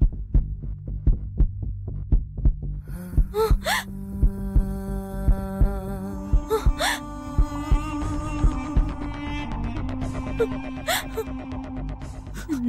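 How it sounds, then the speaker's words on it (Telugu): A heartbeat from a Telugu TV serial drama thumps in a steady, regular rhythm of deep pulses, with a sustained, swelling tonal score rising underneath partway through. "అమ్మ గుండె కొట్టుకుంటుంది"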